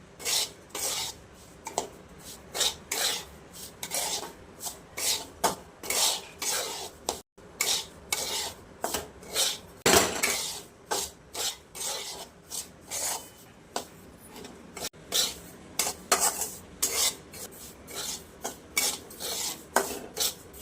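Semolina is roasted in a pan over low heat while a spoon keeps stirring it, making a steady rhythm of close, dry rasping scrapes with short pauses between strokes.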